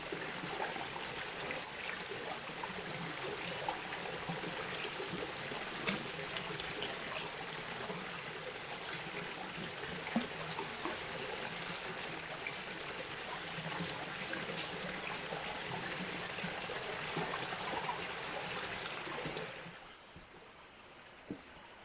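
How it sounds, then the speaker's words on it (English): Gravel being panned in water while prospecting for gold in a historic gold district, a continuous sloshing and trickling wash with small stone rattles, steady and close, stopping abruptly near the end. "All right, we'll pan this out."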